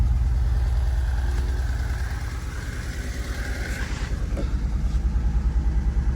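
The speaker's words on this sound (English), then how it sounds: "It's idling good." A restored, previously abandoned turbo Datsun engine idles steadily and loudly up close, a continuous low rumble with a faint rhythmic pulse and a brief sharper blip near the end, no voices.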